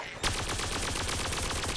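Rapid automatic gunfire from the shooter game Plants vs Zombies Garden Warfare 2, a steady stream of close, evenly spaced shots that starts after a brief quiet moment and runs without pause to the end.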